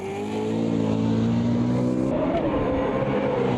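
A V8 Supercar racing engine drones loudly and steadily from inside the car while driving, a sustained high-revving roar that shifts pitch slightly partway through.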